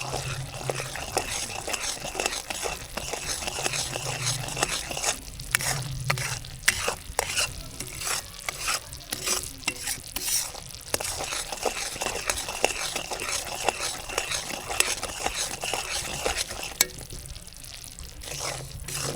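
Sugar syrup for sesame gachak being stirred and cooked in a pan in a Punjabi village kitchen, a steady close bubbling sizzle with repeated scraping stir strokes throughout.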